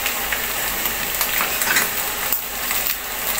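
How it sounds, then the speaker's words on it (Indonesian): Eggs fry in a pan with shallot, giving a steady, close, loud sizzle and crackle that carries on without pause. "Jadi si telurnya itu digoreng dulu."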